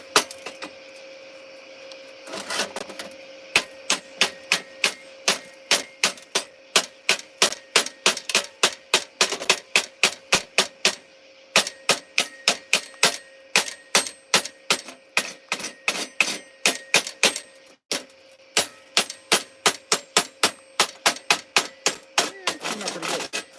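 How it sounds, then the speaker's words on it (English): Sharp, rapid clicks and taps repeat in a steady rhythm for over twenty seconds as slag is chipped and scraped off a fresh weld, close and fairly loud over a constant background hum. "Now I can drag the slag off."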